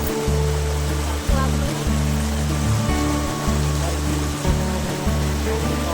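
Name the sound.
waterfall stream water flowing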